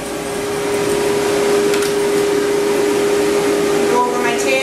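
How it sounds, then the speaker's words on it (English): A stand dryer blasts a steady, loud roar of air while drying and fluffing a curly-coated dog during grooming, with a constant whine throughout. "with my stand dryer, getting all that curl out"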